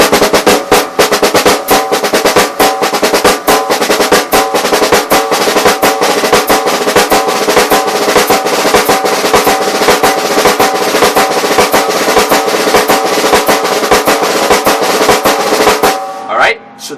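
Six-stroke roll played fast on a drum kit, a dense continuous stream of sticking for about sixteen seconds, loud and close, then stopping abruptly.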